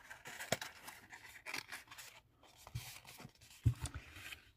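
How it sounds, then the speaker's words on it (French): A paper candy box is folded and its creases are pressed down, making intermittent close rubbing, scraping and crinkling strokes with short pauses between them and no speech. "Je vais marquer les plis."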